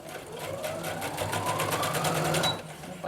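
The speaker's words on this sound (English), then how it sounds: "I'm gonna do a basting stitch." Sewing machine running a basting stitch on stretchy tank-top fabric, a steady rapid whirring chatter of needle strokes that holds for about three seconds at close range, with no talk.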